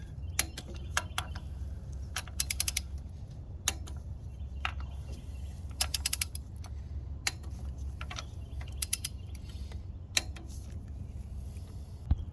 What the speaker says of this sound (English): I'm gonna go ahead and start torquing all these